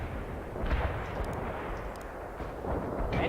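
Heavy explosion destroying a tank in the real-time strategy game World in Conflict, a dense rumbling blast sustained for several seconds under a layer of battlefield noise, with scattered gunfire crackles over it.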